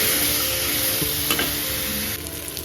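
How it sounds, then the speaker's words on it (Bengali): Pumpkin stems frying in a pan with salt and turmeric, a loud continuous close sizzle with a few stirring scrapes, no voices. "দিয়ে ভালো করে ভাজা ভাজা করে নেব।"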